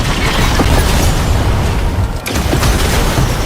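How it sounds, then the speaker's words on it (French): Loud, dense blast noise fills a battle-royale video game, a sustained rumbling explosion with crackling bursts and a brief dip midway before the roar resumes, with no speech. "Ça explose les gars."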